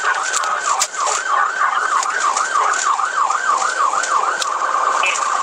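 A police car siren wailing loud and close during a high-speed chase through heavy traffic, a rapid repeating yelp pattern sweeping up and down steadily over road noise.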